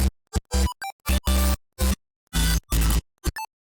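Layered synth melody and bass tracks play together in short, chopped bursts separated by silences, with buzzy stabs and bright pitched blips that turn on and off abruptly.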